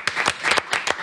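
A small studio audience at a live radio session claps for a singer, a few distinct, close hand claps over about a second.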